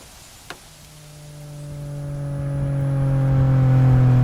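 A Porsche 718 Spyder sports car with a manual gearbox revs up after a sharp click, its engine note climbing steadily in pitch and loudness, close and without voices.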